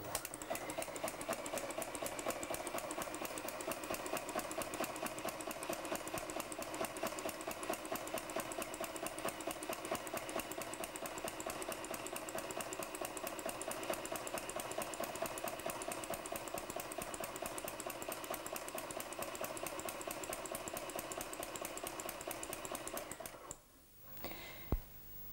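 Hague linker machine linking knitting: a fast, even mechanical clatter of chain stitching, steady and close, running without pause until it stops abruptly near the end, with a couple of faint knocks after.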